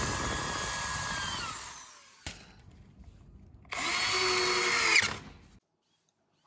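Power drill boring holes and driving screws into pallet wood for a DIY sofa, two sustained whirring bursts separated by a short pause, loud and close with no talking.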